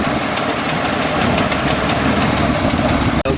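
A 1979 AMC Concord engine runs steadily after its vacuum advance is hooked up, a loud, close, continuous idle with a rhythmic pulsing chug and some knocking, with exhaust popping out at the manifold.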